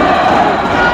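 An arena crowd at the 2023 Belgrade 70 kg wrestling final between Iran's Amir Mohammad Yazdani and an American wrestler roars and cheers in a loud, steady wash of many voices.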